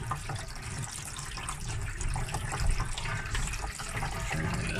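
Water runs steadily into a boat's tank through a hose fitting and elbow, a broad continuous rushing and splashing that stays fairly loud and even throughout, with no talking.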